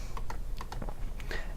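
A computer mouse clicks several times in quick, uneven succession while fixture controls are selected in lighting console software. The clicks are crisp, close and alone, with no talk.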